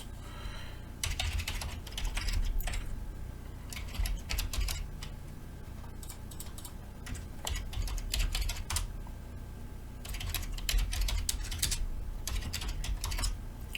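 Fingers tapping a computer keyboard while entering text into an Excel form, bursts of quick clicking keystrokes separated by short pauses, close and clear with no talking.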